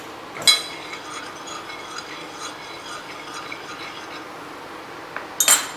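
A spoon clinks against a bowl while soy sauce and sesame oil are mixed: two sharp clinks, one near the start and one near the end, with faint quiet stirring between them.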